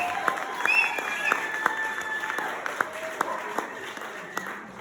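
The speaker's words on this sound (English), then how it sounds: "let's give a big round of applause for Herb Heisner, activity director extraordinaire" A crowd at a campground resort comedy show applauds for the activity director, clapping and cheering moderately with a few sharper claps and a faint whistle-like tone running through.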